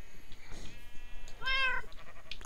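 A Minecraft cat in the Agrarian Skies modpack gives a single short, clear meow midway through, quiet and alone over faint background noise.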